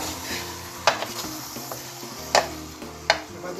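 Meat and cassava sautéing in a pan for quibebe, a steady soft sizzle with three sharp utensil clacks against the pan and lighter stirring scrapes in between, close and moderately loud.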